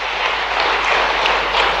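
Audience applause for the Prime Minister at a state-level weavers and artisans conference, a steady dense wash of many hands clapping that holds at an even loudness throughout.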